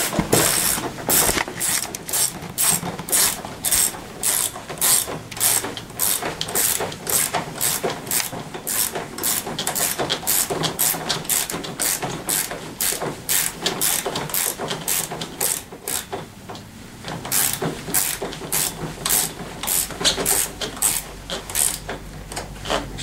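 A hand ratchet clicks steadily while tightening bolts during front-wheel assembly of a TaoTao CY50T3 50cc scooter, with fast, regular pawl clicks close up and a brief pause partway through.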